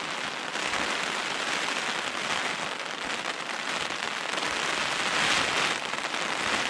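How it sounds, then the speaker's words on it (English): Heavy rain pours down steadily at a fishery, a dense continuous hiss of drops drumming on surfaces with no pauses, close and enveloping throughout. "as you can hear, it's absolutely chucking it down"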